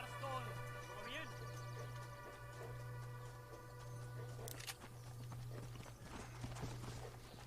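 Horse hooves clip-clopping at a steady riding pace in the video game Red Dead Redemption, faint and continuous over a low steady hum.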